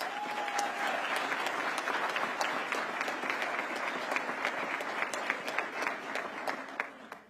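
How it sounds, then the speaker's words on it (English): Audience applause at a police community relations awards ceremony, a sustained wash of many hands clapping, fairly close and even, tapering off at the end. "Give him one more round of applause."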